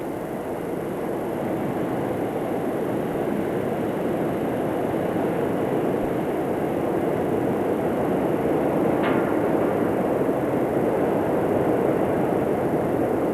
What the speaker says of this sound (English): A special train composed of 10 heavy locomotives was used to test the strength of the bridge.